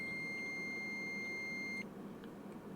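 A continuity tester beeps while checking a ground connection on a circuit board, giving one steady electronic tone that holds for almost two seconds and then cuts off, leaving quiet room sound.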